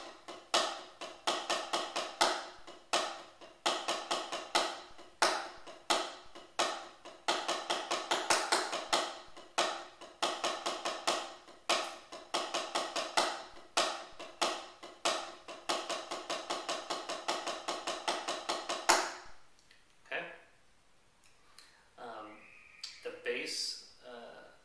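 A drum warm-up pattern played on a snare-type drum: two triplets followed by accented sixteenth notes, a dense run of crisp strokes repeated in sections for about twenty seconds before it stops and a few softer sounds follow.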